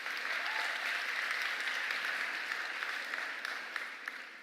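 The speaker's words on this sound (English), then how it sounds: "everyone give him a round of applause" Applause from the audience at a World's Fair Nano talk, a soft, even patter of many hands clapping at moderate distance, continuing steadily for about four seconds and fading slightly at the end.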